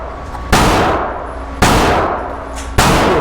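A Benelli M4 12 gauge semi-auto shotgun fires three loud, sharp blasts about a second apart, each one decaying into a ringing echo outdoors.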